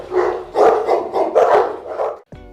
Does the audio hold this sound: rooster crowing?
no